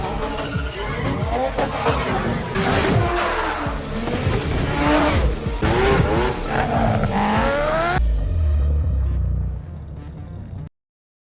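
Cars racing in a chase scene from the film X-Treme Rider, with engines roaring, revving and tires squealing in a dense, loud stretch, then cutting to a low rumbling thud before fading out.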